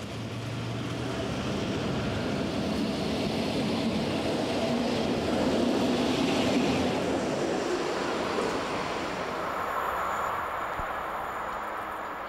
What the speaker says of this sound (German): Ein Zug macht sich auf den Weg nach Waldenburg.